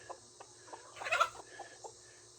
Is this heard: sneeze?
no